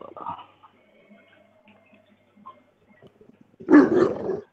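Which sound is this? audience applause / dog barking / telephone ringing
dog barking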